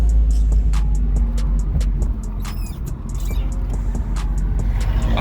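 A Honda car engine idles at a stoplight, a steady low throbbing hum heard from inside the cabin, close and fairly loud, with small ticks and clicks over the drone.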